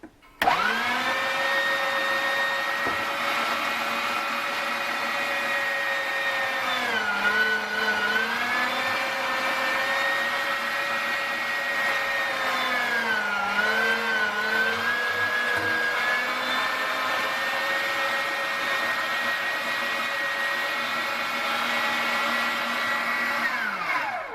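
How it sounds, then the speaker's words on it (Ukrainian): A kitchen grinder purees cooked beans and half an onion for meatless bean patties. Its loud, continuous motor whine runs for the whole clip, dipping briefly in pitch twice under load, with no talking. "Перемелюємо всі фасольки. Також перемелюю і цибулину."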